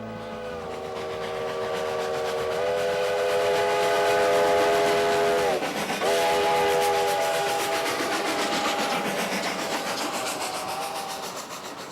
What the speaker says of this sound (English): locomotives that are being used this morning to pull a train up to Cumbres Pass are classified as K36 series locomotives